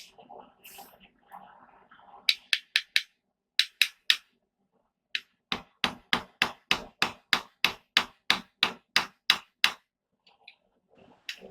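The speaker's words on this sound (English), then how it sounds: "I'm hammering them together in two different directions" A blacksmith hammers hot mortise and tenon pieces together, sharp ringing metal blows in short bursts followed by a fast, steady run of about fifteen strikes. A brief murmur of voice comes at the start.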